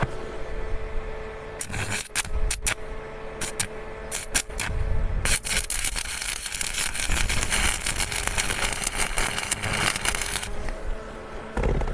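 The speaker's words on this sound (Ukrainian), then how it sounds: "Дуга зажигається чудово, 140 ампер" Arc welding with a 4 mm Kaiser electrode at 140 amps on a budget household welding machine, heard as a loud, steady crackling hiss nearby that starts in short bursts, then runs for about five seconds before stopping.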